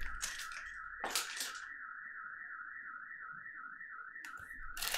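A neighbor's alarm wails with a steady warbling electronic tone in the background, accompanied by sharp rustling and crinkling bursts nearby at the start and end.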